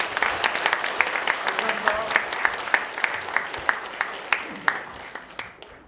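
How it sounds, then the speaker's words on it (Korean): An audience at an apartment remodeling briefing meeting claps together in a sustained round of applause, individual sharp claps standing out near the front, steady for several seconds before tapering. "큰 박수 한번 치고 시작을 하겠습니다"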